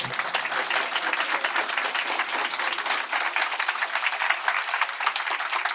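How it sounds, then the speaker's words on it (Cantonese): An audience claps steadily at a talk in Hong Kong, dense sustained applause from a crowd that holds at an even level the whole time. "謝大家更加熱烈嘅掌聲"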